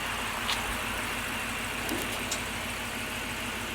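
A pickup truck in drive idles and begins pulling away with a dumpster trailer, its engine a steady mid-range drone with light clinks and rattles over the top, moderately loud and continuous.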